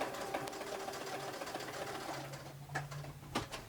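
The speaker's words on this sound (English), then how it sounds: "I'm going to take 2 stitches across." A sewing machine stitching a buttonhole, a soft steady mechanical whir with a few brief stitch bursts near the end, quiet and close.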